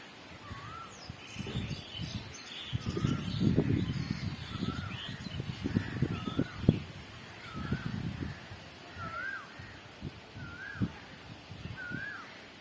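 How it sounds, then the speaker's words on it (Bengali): Birds call near the Ganges at dusk, with crows cawing and short chirps and whistles scattered over a fairly quiet, distant background of low rumbling noise. "পাখির ডাক শুনতে হয়"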